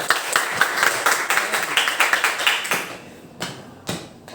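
A ninth-grade class applauds together in a classroom, with a dense burst of close, brisk hand claps for about three seconds that thins to a few scattered claps before fading.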